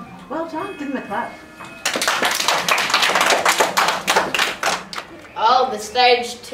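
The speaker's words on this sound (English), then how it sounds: "give them a clap." A school audience breaks into loud, dense clapping for about three seconds, with a speaking voice before it and voices returning as the applause fades.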